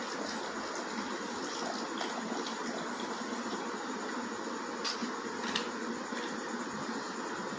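Water poured steadily into a pot of fresh peach juice mix with sugar and salt, a continuous broadband splashing flow that stays even throughout with no talking.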